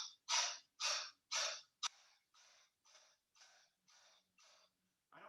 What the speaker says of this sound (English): The abdomen strikes against the spine as I pump that exhale.